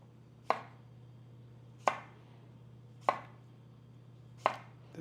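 Four sharp knife chops through cucumber onto a cutting board, evenly spaced about a second apart, close and crisp over a low steady hum.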